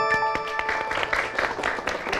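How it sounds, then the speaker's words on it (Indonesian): Audience applauding a school team at a junior high Quran quiz competition in Palu, a steady dense patter of many hands over about two seconds, with a faint voice underneath. "Tepuk tangan."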